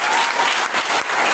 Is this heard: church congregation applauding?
yes